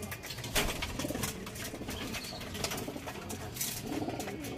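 Racing pigeons coo softly and repeatedly while feeding in a loft, low throaty calls overlapping with light shuffling, pecking and occasional wing flutters nearby, with no talking.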